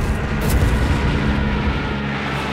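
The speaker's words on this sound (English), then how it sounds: "And then a fragmentation bombing run." A fragmentation bombing run in the World War II strategy game Company of Heroes 3, heard as a dense, continuous roar of rumbling blasts and explosive noise, loud and close throughout with no voices.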